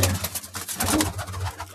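Soft pigeon cooing repeats in low murmuring phrases, fairly close, with faint rustling and background noise throughout.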